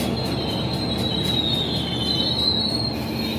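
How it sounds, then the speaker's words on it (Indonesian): A Garut–Cibatuan train running along railway tracks, its wheels squealing in a sustained high whine over a steady rumble, with faint rhythmic clicks and no voices. "ini kereta Garut Cibatuan asli nih ya"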